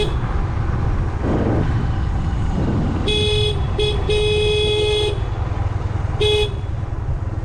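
A vehicle horn blares loudly in several bursts, a longer run of honks followed after a pause by one more short blast, over steady outdoor rumble and wind.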